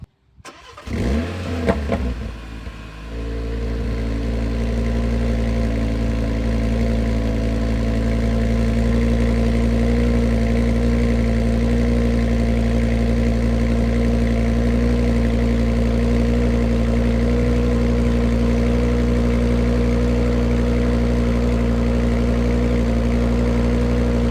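A Cupra Formentor VZ5 tuned by ABT fires up with a brief burst, then settles into a loud, steady, deep engine drone close by that holds unchanged for over twenty seconds, with no voices over it.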